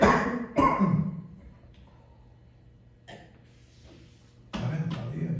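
A man coughs a few times, sharp loud bursts at the start and again near the end, with quiet room tone and a faint low hum between them.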